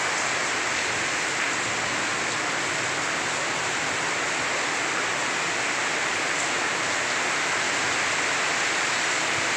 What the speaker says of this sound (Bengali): দেখেন প্রচন্ড তুফান